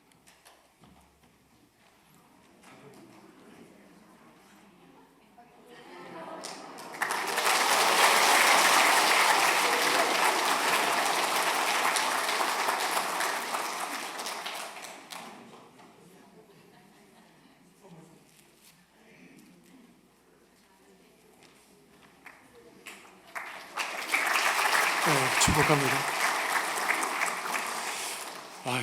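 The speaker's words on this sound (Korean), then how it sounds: "축복의 큰 박수 부탁드립니다" A church congregation at a Sunday service applauds to bless its youngest child, two loud bursts of clapping with a quieter stretch between, a voice speaking under the quieter part.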